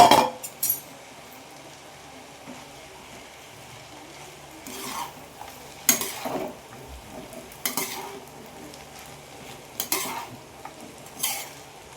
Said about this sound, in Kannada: ಇವಾಗ ರೈಸ್ ಹಾಕ್ಕೊಂಡು ಮಿಕ್ಸ್ ಮಾಡ್ಕೊಳ್ಳೋಣ.